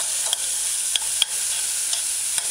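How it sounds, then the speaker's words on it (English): Chopped scallions dry stir-fry in about a tablespoon of oil, a bright, hissing sizzle broken by a few sharp spatula scrapes and taps against the pan, close and fairly loud. "You want to dry stir fry, because it's just 1 tablespoon of oil I use."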